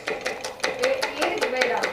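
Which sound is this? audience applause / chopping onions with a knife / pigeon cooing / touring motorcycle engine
chopping onions with a knife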